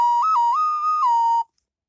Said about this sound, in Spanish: Un silbato